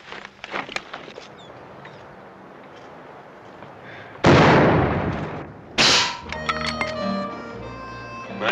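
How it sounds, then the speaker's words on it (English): Rifle shots ring out in a Western film, two loud cracks spaced well apart, each with a long echoing tail, after quieter scattered sounds. "it's the best darn shooting I ever saw"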